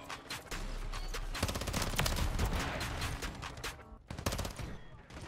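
Rapid automatic fire from an MP7 submachine gun in Call of Duty: Modern Warfare III, dense bursts of shots running almost continuously with a brief pause near the end, loud and close.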